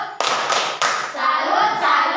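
Classroom students clapping the rhythmic 'tepuk salut' cheer: a few sharp, loud hand claps in sequence, then softer scattered clapping and children's voices close by.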